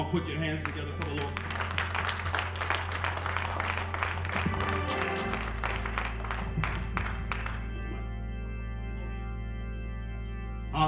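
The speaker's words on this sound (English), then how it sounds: "Come on, put your hands together." A church revival congregation clapping hands in praise, with dense clapping over a sustained musical drone and voices. The clapping thins out toward the end while the tones carry on.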